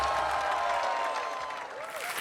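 Applause from a television quiz show studio audience for the children, steady clapping mixed with music tones, moderately loud and continuous before easing slightly.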